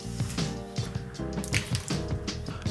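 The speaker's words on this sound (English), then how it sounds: "just dump it out through the spout" Rinse water pours out through the spout of a Chemex coffee maker with close, gurgling, splashy sounds. The liquid flows unevenly in glugs for a few seconds over a faint background hum, with no speech.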